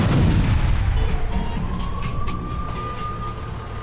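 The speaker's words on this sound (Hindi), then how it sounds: "घर के अंदर ड्रोन में धमाका हुआ" An FPV drone detonating inside a house in a wartime strike: a loud blast at the very start, then rumbling decay with a faint steady whine and scattered crackles.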